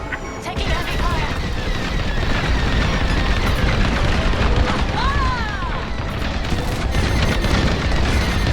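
Heavy fire and explosions in the space combat game Star Wars: Squadrons: a constant loud roar of blasts, booms and whining laser-like sweeps, dense and unbroken for the whole stretch.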